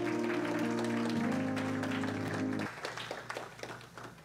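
A church congregation claps in praise at a Sunday service, with sustained organ or keyboard chords at first, then a looser patter of hand claps thinning out toward the end.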